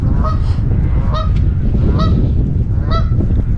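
Several geese honk in short bursts, close by and fairly loud, over a steady background of rushing water or wind.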